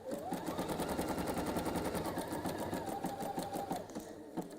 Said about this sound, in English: I am actually machine stitching her Hexiforms